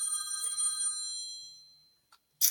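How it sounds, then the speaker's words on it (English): A phone rings in the background of a quiet room, a steady electronic ringtone that fades out, then a brief click and a short noisy burst at the end. "my husband's phone is ringing in the background"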